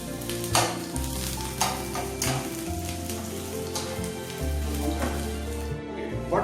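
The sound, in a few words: capsicum and onions frying in a pan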